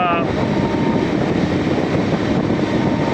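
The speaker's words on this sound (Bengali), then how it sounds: "কৃষ্ণনগর এবং আমঘাটার মধ্যে প্রথম যাত্রীবাহী ট্রেন ছুটে চলেছে।" A passenger train on the Krishnanagar–Amghata line rumbles along on an inaugural special run, with a loud, broadband roar of wheels and wind and a brief horn-like tone at the very start.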